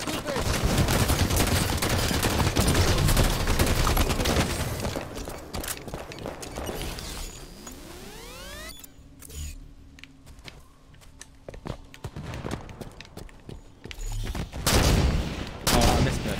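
Heavy Halo 5 firefight on Xbox One, with dense rapid gunfire and bursts crowding the first half. The shooting then thins into sporadic shots, footsteps and a sweeping electronic tone, before another loud burst near the end.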